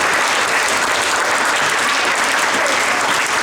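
Dense, steady applause from a crowd gathered at a clothing handover function for a sevens and hoops tournament, loud and close, continuing evenly without pause.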